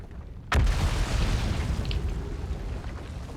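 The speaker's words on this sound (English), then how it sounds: "Love hearing random explosions." Explosions and crashing debris on the collapsing planet Brittle Hollow in the Outer Wilds video game: one sudden deep boom followed by a long rumbling, crumbling roar that stays loud and fills the scene.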